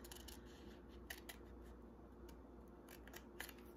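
Scissors snip through paper pieces for a woven heart basket, a string of quiet, short cuts at uneven intervals over a low background hum.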